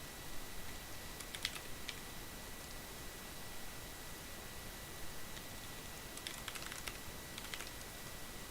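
Typing on a new computer keyboard comes in two short bursts of quick clicking keystrokes, one early and a longer cluster near the end, set against a steady background hiss.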